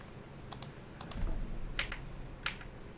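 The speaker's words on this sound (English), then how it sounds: "So maybe I'm typing something wrong." A computer keyboard is typed on in a few sparse, quiet key presses, single and paired clicks spaced apart over a low background hum.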